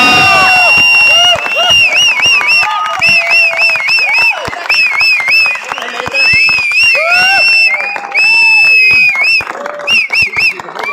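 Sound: audience applauding and cheering at show finale

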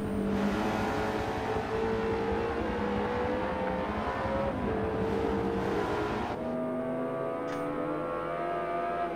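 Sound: race cars on last lap at Daytona, Forza video game

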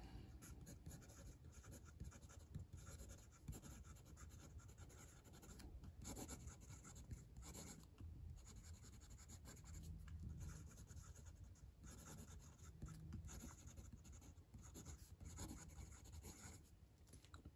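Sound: Wancher Dream fountain pen writing on paper

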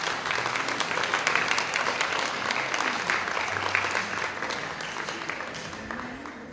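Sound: loud applause from audience

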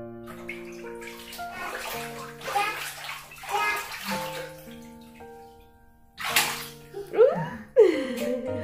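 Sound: child splashing in bathtub water

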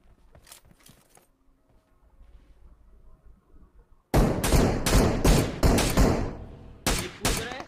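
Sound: gunfire from SLR rifle in a battle royale video game

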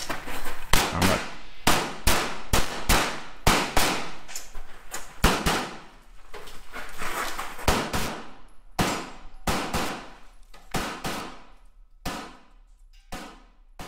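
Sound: pistol gunshots at IPSC shooting stage

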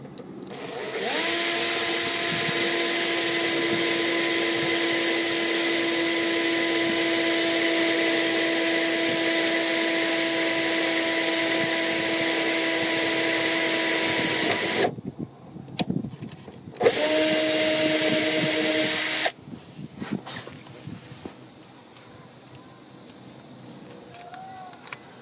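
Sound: power drill boring hole in Toyota AE111 car body

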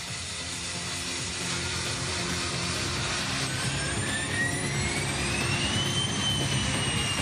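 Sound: private jet departing

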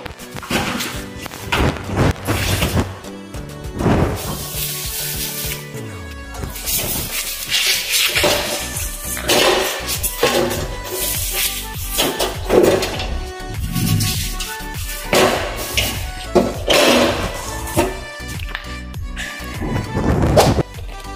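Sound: washing a pressure cooker with cleaning paste

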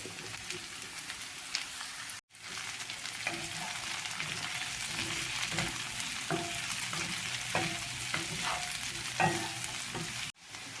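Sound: zucchini frying in pan

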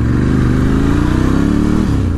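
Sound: Ducati Scrambler 1100 engine revving during test ride

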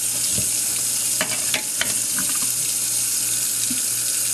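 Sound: sink filling up with tap water

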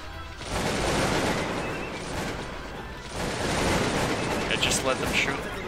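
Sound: musket gunfire in video game Cossacks 2

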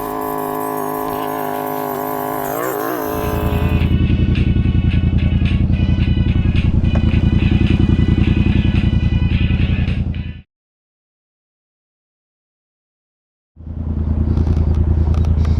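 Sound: motorcycle riding in traffic

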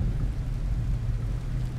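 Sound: rain in the video game Farmer's Dynasty

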